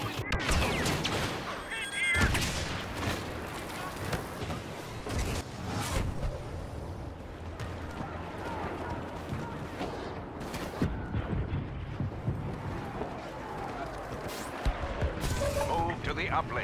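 Star Wars Battlefront battle with constant gunfire and blaster shots, explosions and crashes layered throughout, with voices calling out over the din.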